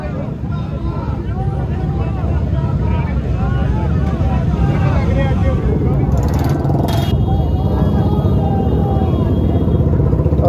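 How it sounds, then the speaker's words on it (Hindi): Farmers' motorcycles and vehicles arrive at a gathering in Karnal, engines droning and rumbling continuously nearby under overlapping crowd voices, with brief higher-pitched noises partway through. "बाइकें हो गाड़ियाँ हो, वो लगातार पहुँचनी अब यहाँ पर शुरू हो चुकी हैं।"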